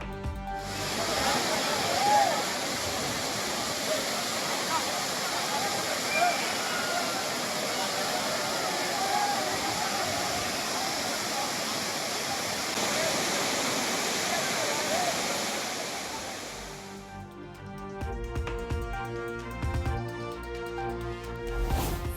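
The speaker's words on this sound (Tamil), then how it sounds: "ஆர்ப்பரித்து கொட்டும் அருவி நீரில் பொதுமக்கள் உற்சாக குளியல்." A crowded waterfall at Courtallam pours down heavily while tourists bathe, a dense continuous rushing roar for most of the stretch that gives way to music near the end.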